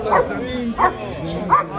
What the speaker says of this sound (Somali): eygaan hadda muxuu rabaa